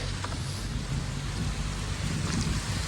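Heavy rain falls on the mountain road to Kedarnath near Sonprayag, a loud, continuous roar of downpour with a low rumble beneath, no voices.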